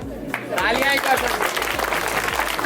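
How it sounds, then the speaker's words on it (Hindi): Audience applause for a speaker at a public event, strong and sustained clapping from a large crowd with a voice talking through it. "जोरदार तालियां सर के लिए"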